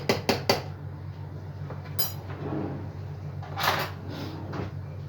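A large spoon stirs baby food in a pot in a home kitchen, giving a few quick clinks and scrapes against the metal at the start and then soft scraping movements over a steady low hum.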